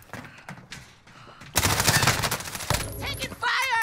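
Automatic gunfire in Call of Duty Warzone battle royale: quieter shots and a voice early on, then a sudden loud burst of rapid fire that continues to the end with electronic game cues layered on top.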